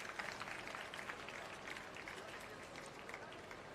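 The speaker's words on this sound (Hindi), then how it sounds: "आप सभी की तालियों की गड़गड़ाहट यूं ही बनी रहे" Dense, continuous audience applause fills a hall as a crowd welcomes Delhi's Environment and Forest Minister Gopal Rai on stage at an I Love Yamuna public awareness event, a steady wash of clapping throughout.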